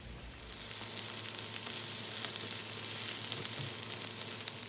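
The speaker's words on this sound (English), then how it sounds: "we've got our onions and our peppers in here. They're getting nice and wilted down." Onions and peppers sizzle steadily in a hot pan, a dense, continuous frying hiss that stays close and even throughout with no voices.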